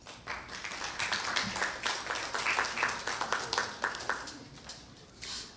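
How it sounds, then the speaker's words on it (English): Audience at a Miami-Dade County Public Schools board meeting clapping, a moderate burst of applause with scattered individual claps that rises, holds for several seconds and thins out near the end. "We applaud you."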